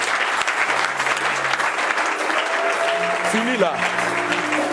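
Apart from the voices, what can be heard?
congregation applauding in church service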